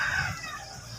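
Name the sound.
wild junglefowl (labuyo) rooster crowing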